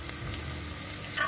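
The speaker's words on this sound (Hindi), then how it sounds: "अब यहाँ पर मैं ऐड करूँगी एक अनियन को भी हम अच्छी तरीके से सौते कर लेते हैं" Onion sautéing in a pan with dry spices for a vegetable pulao, a soft even sizzle with a light stirring scrape at the end, brief and without voices.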